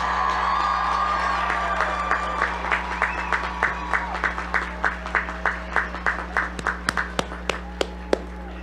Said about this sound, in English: One more round of applause for our graduates of 2026.